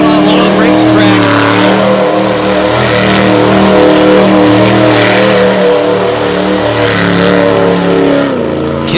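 A monster truck on the Renegade Monster Truck Tour in Beckley, WV revs its engine hard while spinning donuts on loose dirt and clay, a loud continuous roar under an announcer talking throughout.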